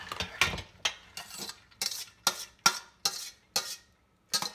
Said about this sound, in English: So now I'm going to put them